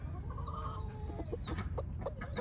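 An all-black Ayam Cemani rooster clucks softly in short tonal calls and quick choppy notes, fairly faint against a low background rumble.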